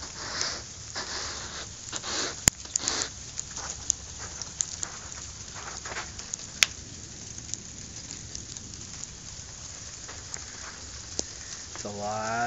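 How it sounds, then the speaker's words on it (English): Sleet falls in a steady fine patter outdoors in cold, windy weather, with scattered sharper ticks of ice pellets striking a surface over a continuous hiss, moderately quiet. "It's a lot of sleet."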